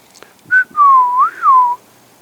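A man whistles in imitation of a grouse's song, giving a few short rising chirps followed by a long, clear, wavering whistled phrase, close and loud against a quiet outdoor background.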